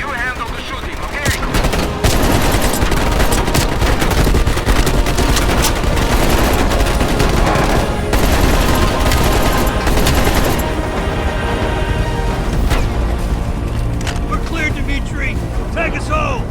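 Heavy automatic gunfire rattles almost continuously during a flight sequence in Call of Duty Black Ops Cold War, loud and dense over engine roar, with voices talking through the chaos.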